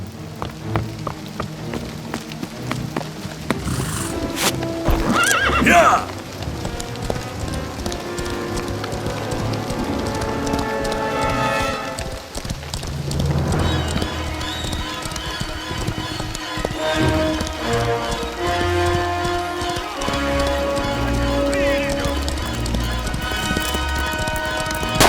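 Horse hooves clatter and rain pours steadily beneath swelling dramatic music, with a brief shout breaking through the busy, loud mix.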